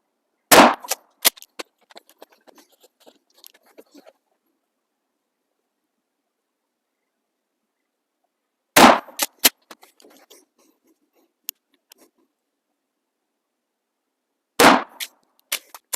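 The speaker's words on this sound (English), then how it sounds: "last round here with our 20 gauge with the HighBall and Safety Sight" Three loud, sharp blasts from a 20 gauge shotgun loaded with HighBall rounds, spaced several seconds apart outdoors, each followed by brief clinks and rattles of handling and empty pauses.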